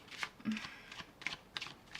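A deck of tarot cards gets a quick shuffle, producing soft, close flicks and light riffling taps in short uneven bursts at low volume.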